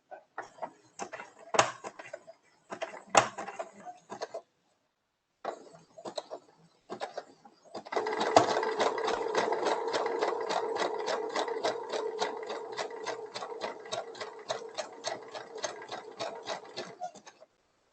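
A sewing machine runs steadily in zigzag stitch, sewing a patch, starting after a few short bursts and then humming continuously with a fast, even rhythm of needle strokes.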